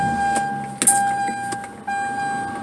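Interior of a parked car in The Gambia, a quiet enclosed cabin with a steady low hum, a few small clicks and bumps of someone shifting inside, and a faint high tone running throughout.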